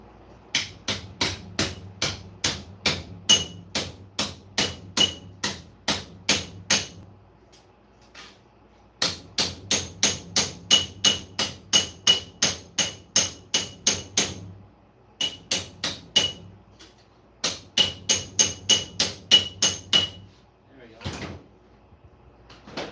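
Rapid, evenly spaced hammer blows ring on sheet metal being beaten flat in a garage, in several long bursts with short pauses between, close and sharp.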